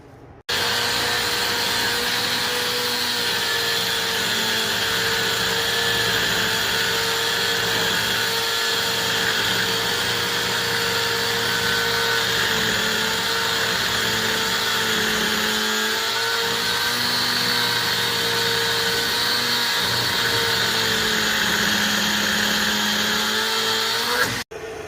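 A power tool runs steadily for about 25 seconds, loud and close, with a whining motor hum as it removes the cab bolts from a truck; there are only slight dips in pitch along the way.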